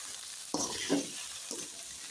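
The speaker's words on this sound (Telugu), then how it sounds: "బెండకాయలను యాడ్ చేసిన తర్వాత బాగా మిక్స్ చేసుకోవాలండి" Okra and onions fry in a pan while being mixed, giving a soft continuous sizzle broken by a few scraping stirs of a spatula; no one speaks.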